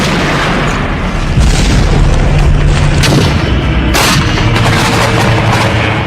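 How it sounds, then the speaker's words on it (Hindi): A loud rocket or bomb blast with heavy booming and crackling, sustained at full level for about six seconds with no speech, like artillery fire close by. "रॉकेट है या बॉम्ब, वीडियो से पता नहीं चल पाता, लेकिन इसका बारूदी असर तुरंत दिखाई देता है"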